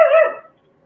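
A single short bark or yelp from a puppy, sharp and fairly close, fading out within half a second into silence.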